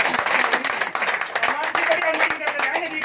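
A crowd of traders at a political gathering in Bhiwani claps in dense, uneven bursts, close and loud, with voices mixed in.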